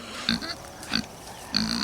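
Pigs on a farm grunt three times in short, close bursts, separated by brief pauses.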